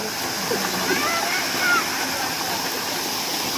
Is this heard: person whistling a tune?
no